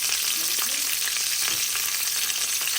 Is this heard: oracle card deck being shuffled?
no